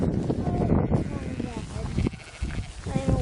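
Sheep bleating at a farm, several wavering bleats from nearby animals heard over and between people talking close by.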